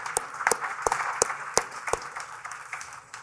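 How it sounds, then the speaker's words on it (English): Audience applause at a panel talk on AI and sustainability: a thin spread of hand claps with several sharp, distinct claps standing out, fading slightly toward the end. "please give Andrew a round of applause"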